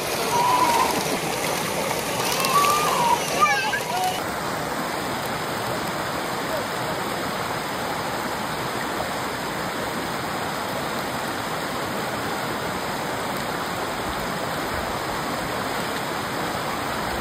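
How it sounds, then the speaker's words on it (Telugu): A fast, swollen river in Canada roars loudly and steadily, its water flow strong enough to hold back fish trying to swim upstream; a continuous rain-like rush fills the whole stretch, with brief extra splashes early on. "అక్కడ సౌండ్ ఎంత ఎక్కువ వస్తుందంటే వాటర్ ఫ్లో, ఇంకా చేపలు వాటర్ లో కొట్టుకుంటూ పెద్ద వర్షం పడితే ఎలా ఉంటుందో అంత పెద్ద సౌండ్ వచ్చేదన్నమాట"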